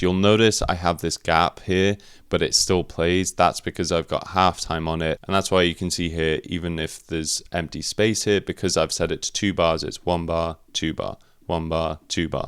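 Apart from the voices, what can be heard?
No distinct noise like a dog, phone or traffic.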